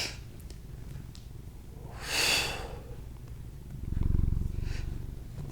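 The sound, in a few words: cat purring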